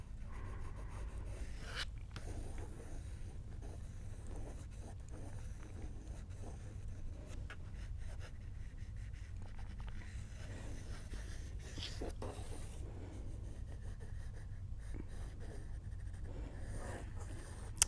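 A pencil sketches light lines on paper with faint, scratchy strokes that come in short, irregular bursts over a low background rumble, with no talking.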